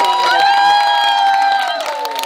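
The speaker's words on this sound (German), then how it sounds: "nochmal ein Applaus für die Maike." A crowd at a children's summer-holiday circus show cheers, with a loud sustained whooping voice held steady over a dense background of audience noise throughout.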